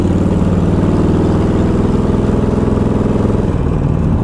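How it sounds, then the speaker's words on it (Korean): A motorcycle's exhaust rumbles steadily and loudly during a ride, a continuous low throbbing engine note holding even throughout with no speech. "이런 배기음도 좀 즐기고."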